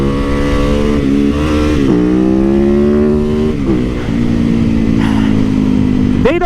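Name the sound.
Yamaha WR250X supermoto motorcycle engine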